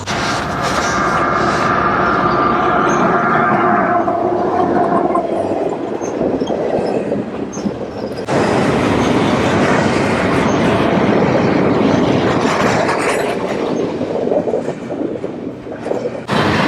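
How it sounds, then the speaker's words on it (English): A long train rolls past on the tracks, a loud, steady rumble and rattle of wagons close by that continues without a break. "First time I've seen the train go by there."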